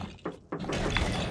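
Explosion in the video game Lego Indiana Jones: The Original Adventures, two short bursts followed by a sustained crackling, shattering rumble that fills the rest of the moment, loud and close with no talking.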